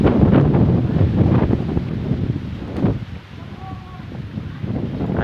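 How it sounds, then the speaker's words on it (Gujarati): Strong stormy wind buffets the microphone outdoors at evening near a river, a steady broadband roar with gusts that swell and ease throughout. "સાંજનો સમય છે પણ બહુ પવન આવે."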